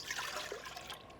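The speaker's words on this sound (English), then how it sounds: "we put the water right into the bowl" Water poured into a mixing bowl for pizza dough, a steady broadband splashing trickle lasting about a second, close and fairly quiet, with no talking.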